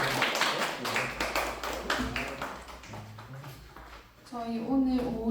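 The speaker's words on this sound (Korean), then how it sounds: "우리 그럼 총무님 나오실 때 박수로 환영해 주시면 감사하겠습니다" Church youth group clapping in welcome during a worship service, a burst of claps that thins out, followed by someone speaking at the end.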